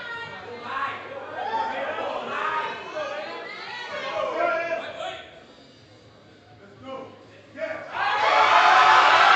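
A crowd at a powerlifting regional championship in the Cayman Islands cheers and chatters through a loud arena PA announcer, with a brief lull before a strong surge of cheering at the end.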